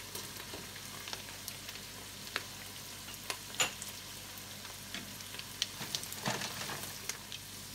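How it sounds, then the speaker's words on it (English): Chopped smoked sausage sizzling with soft onions in bacon grease for charro beans, a steady close frying crackle with scattered pops and occasional stirring scrapes, no voices. "And now I'm going to add the chopped smoked sausage."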